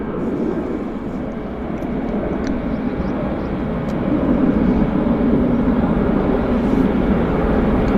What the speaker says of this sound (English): And A319 pushing off the gate.